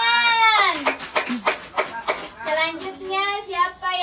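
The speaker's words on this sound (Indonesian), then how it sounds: "Tepuk tangan." Schoolchildren in a primary school class clap their hands in a quick burst of several claps, mixed with children's voices talking and calling out over the clapping.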